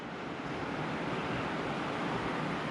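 Steady, broadband rushing of the Colorado River flowing beneath the Silver Bridge in the Grand Canyon, a constant loud wash of water noise mixed with wind, no voices.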